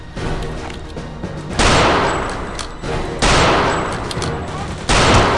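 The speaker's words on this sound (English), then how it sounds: "There's a guy freaking shooting." Video game gunfire with Panzerfaust rockets in a multiplayer shooter: dense, loud bursts of automatic shooting, with three sudden louder volleys cutting in over continuous battle noise.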